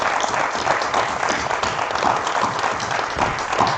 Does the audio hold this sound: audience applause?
yes